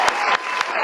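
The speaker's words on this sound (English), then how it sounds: "let me give you an applause really quick" A short burst of applause for a guest during an interview, dense clapping that swells and dips over less than a second.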